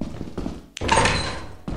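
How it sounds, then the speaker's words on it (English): A door in Lethal Company bangs open with a sharp, close thunk, followed by a rushing, echoing rumble, after some muffled activity beforehand. "And open the door!"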